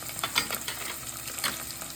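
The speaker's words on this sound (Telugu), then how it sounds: "ఆనియన్ వేస్తున్నాను, పచ్చిమిర్చి వేస్తున్నాను" Onion and green chillies fry in hot oil in a pan for lemon rice, giving a steady close sizzle broken by brief scraping stirs.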